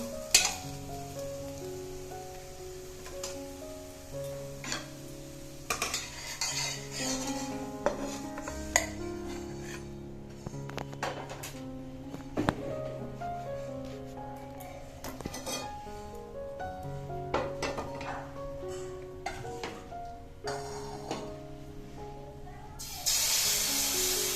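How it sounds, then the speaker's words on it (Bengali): Egg-and-flour parathas fry in a pan with a steady soft sizzle and occasional scraping clatter from utensils, all beneath prominent background music throughout. "একইভাবে সমস্ত পরোটাগুলিকে ভেজে নিচ্ছি।"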